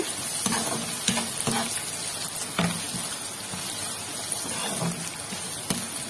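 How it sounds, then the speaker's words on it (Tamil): Onions sautéing in a pan make a steady close sizzle, broken by several sharp scrapes and stirring clatters of a spoon against the pan, with no talking. "ஓரளவுக்கு வெங்காயம் வதங்கிடுச்சு"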